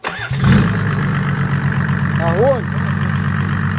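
A Mercedes OM603 diesel engine with a mechanical injection pump cranks without glow plugs and catches, then settles into a steady, rumbling idle, with a voice calling out briefly near the start.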